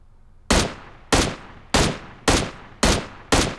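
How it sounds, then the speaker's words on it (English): Six sharp gunshots from PUBG Mobile crack out in a steady rhythm about every 0.6 seconds, each a loud broadband burst with a short decaying tail, with no talking. "pretty far shot over there"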